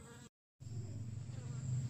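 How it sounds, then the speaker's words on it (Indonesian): A colony of Apis cerana honey bees nesting inside a cupboard gives off a close, steady low buzzing hum, cut by a brief silent gap before it resumes and swells slightly. "Ini koloni lebah apis ranah yang akan kita pindahkan."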